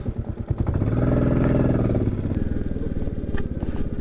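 A motorcycle rides past on a snowy mountain road toward Bumla Pass near Tawang, Arunachal Pradesh. Its engine drone swells loud and close, then fades as it moves away, with light clatter throughout.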